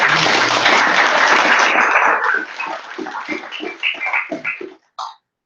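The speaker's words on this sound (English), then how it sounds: "round of applause" Audience applause at a virtual information session on a ballot initiative, loud and dense for about two seconds, then thinning into scattered claps and a few trailing ones before a short final burst.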